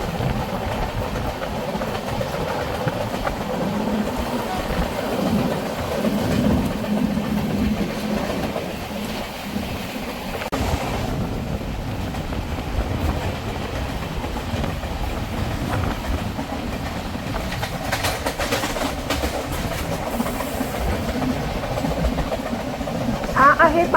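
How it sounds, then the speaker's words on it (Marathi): A Konkan Railway train running at speed during the monsoon, with a steady loud rumble and rattle of the carriages and wheels throughout, heard from on board, with some talk underneath. "रत्नागिरी सोडलं तसं ट्रेनने पण चांगली स्पीड पकडली आहे।"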